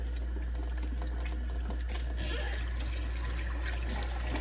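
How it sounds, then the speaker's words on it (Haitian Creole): Tap water runs steadily while a face is washed with warm water at a sink, a continuous close splashing hiss with no voices over it. "Chauffer de l'eau avant que vous faites ça pour pouvoir gagner de l'eau tiède pour laver le visage là"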